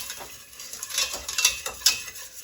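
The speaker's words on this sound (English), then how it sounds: "keep stirring, and you just want to make sure that it's smooth and not clumpy" A spoon scrapes and swirls through homemade enchilada sauce in a pan in quick repeated strokes, close up, with a light sizzle and occasional clinks against the pan.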